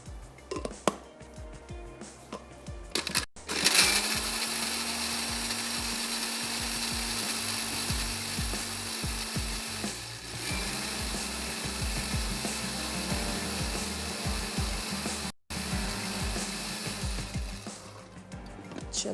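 An electric kitchen grinder runs continuously, blending onion with a little water into paste for a fish gravy, a loud steady whirring drone with a brief stop partway through.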